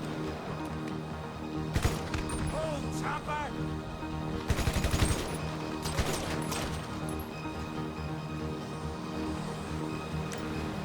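Bursts of rapid gunfire in GTA 5 Online over a steady electronic game soundtrack, with several sharp volleys scattered through continuous background noise.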